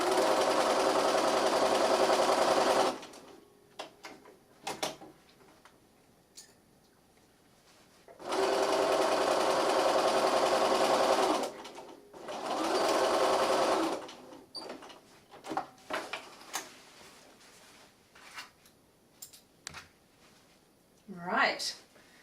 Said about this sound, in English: I'm just going to stitch along that white line that I made.